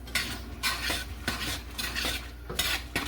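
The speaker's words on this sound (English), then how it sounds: "And we're gonna stir it in real good." Powdered pectin is stirred into carrot cake jam in a pot, with a spoon scraping and knocking against the metal in a steady, close rhythm of repeated strokes and no speech.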